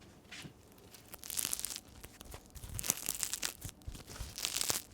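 Quiet, close crackling crunches of a crusty French baguette being chewed, irregular and dry, with no talking.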